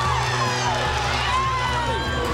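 A NASCAR crowd of 170,000 roars in a sustained, dense wash of cheering, with race engines whining beneath it and a voice faintly mixed in.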